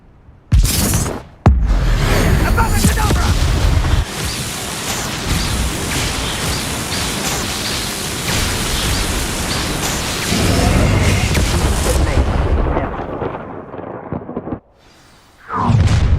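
A loud Confringo fire spell blast from Hogwarts Legacy erupts with a sharp, close burst, then a long thunderous roar that rumbles for about ten seconds before dying away, leaving near silence and a final loud surge.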